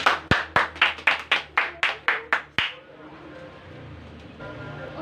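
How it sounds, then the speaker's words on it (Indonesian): About ten sharp, evenly spaced claps in a classroom, crisp and close, as if from a single pair of hands, then quiet room tone after three seconds. "beri aplaus"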